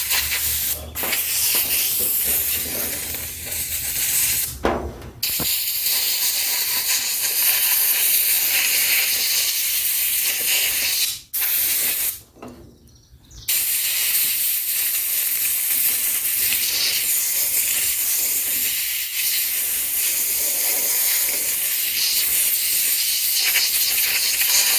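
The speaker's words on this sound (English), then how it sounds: "That stupid air compressor. That thing kicks on every time I'm recording." Air compressor running in a home garage during Dodge D100 floor pan welding work, a steady loud broadband hiss filling nearly the whole clip, with brief dropouts around the middle.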